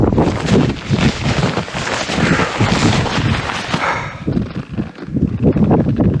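Strong wind buffets the microphone in loud, roaring gusts that hardly let up, rumbling and blustery throughout, on snowy Mount Washington in below-zero winter conditions.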